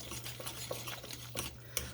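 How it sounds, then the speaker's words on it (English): A Danish dough whisk stirring pumpkin pie filling in a bowl, soft wet scraping and swishing strokes with a few light clicks against the bowl, quiet and steady with no talking. "I'm going to go ahead and mix this together."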